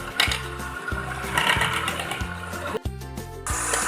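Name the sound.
electric beater whipping cream for ice cream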